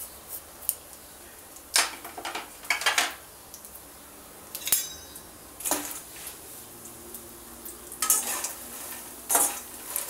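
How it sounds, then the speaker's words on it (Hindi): Fox nuts (makhana) fry in desi ghee over low heat, a faint sizzle under repeated clinks and scrapes of a spoon stirring against the pan, in irregular bursts. "और हल्का हल्का इस तरह से पहले फ्राई कर देंगे, और फिर हम इसे ग्राइंड करेंगे।"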